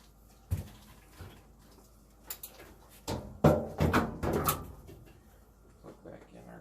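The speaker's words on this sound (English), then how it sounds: "Put our door back on." A Samsung dryer door being refitted after a drum roller replacement, with several clunks and knocks of the panel seating, louder and clustered toward the middle, in a workshop setting with some faint talk nearby.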